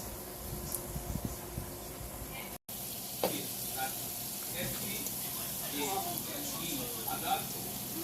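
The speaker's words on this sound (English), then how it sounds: "Fried dumpling coming on." Dumplings fry in hot coconut oil with a steady, close crackling sizzle throughout, broken by a brief dropout, while a voice talks over the frying.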